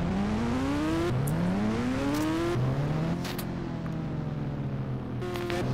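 Ghost Rider motorbike ridden in the Indian Bike Driving 3D mobile game, a steady game engine drone whose pitch climbs in repeated gear-shift sweeps, loud and continuous with no talk.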